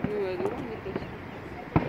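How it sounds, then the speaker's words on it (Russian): Distant fireworks in San Diego bang a few times, sharp booms scattered across the moment, with people talking over them. "Обалденный салют."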